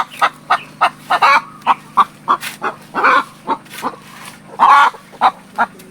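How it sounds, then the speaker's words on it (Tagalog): Buff and Rhode Island Red crossbreed roosters call close by in a loud series of short, separate squawking bursts, about a dozen, spaced unevenly with brief quiet gaps between. "Kaya yung nandito natin mga tandang"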